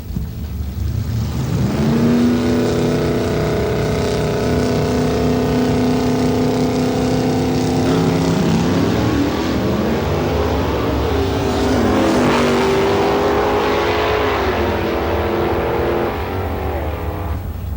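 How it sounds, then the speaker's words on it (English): A 1968 Barracuda drag car with a 360 cubic inch engine: a loud, continuous roaring engine note that climbs in pitch, dips at a shift, then winds up again under full power. "car number 5, Mr. Randy Sedlecki, in a 1968 Barracuda with 360 cubic inch"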